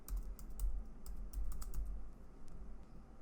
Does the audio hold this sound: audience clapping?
no